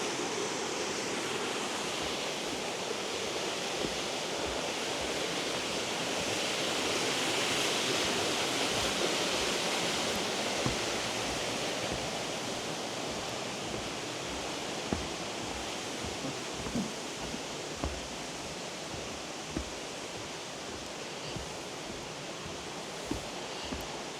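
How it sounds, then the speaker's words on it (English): Steady, broadband rush of the main waterfall on the Glenariff Forest Park trail, a continuous roar with a few small knocks, and no talk. "Look at that waterfall"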